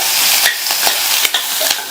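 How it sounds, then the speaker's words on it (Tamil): Onions and chillies sautéing in oil in a pan, a loud close continuous sizzle broken by quick scraping stir strokes of the spatula, no talking. "நிதானமான தீயில வச்சு இந்த வெங்காயம் அதனுடைய கலர் வந்து லைட்டா சேஞ்ச் ஆகிற வரைக்கும் வதக்கிக்கணும்"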